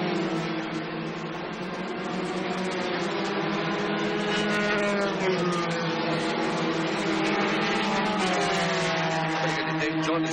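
Formula 3 race cars lapping Silverstone during the 1983 British Formula 3 round, their engines a continuous loud, dense roar with rising and falling pitch as cars pass and shift gears.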